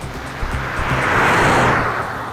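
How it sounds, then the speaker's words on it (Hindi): A car driving fast, a broad rushing road and engine roar that swells to a peak and then eases slightly, loud and near, with no voices. "रजत, गाड़ी तेज ले।"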